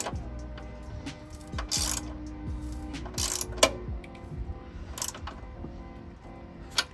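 Ratchet with a 14 mm socket tightening a nut on a TRD strut bar on a 2011-2016 Scion tC, giving repeated bursts of close, rapid metallic clicking with short pauses between strokes.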